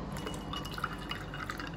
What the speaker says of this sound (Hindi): अब एक इसमें हम पानी डालेंगे